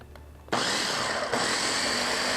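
A blender whirs loudly, starting abruptly and running steadily as it churns spinach with pineapple juice, its motor holding a high, even whine after a brief dip partway through.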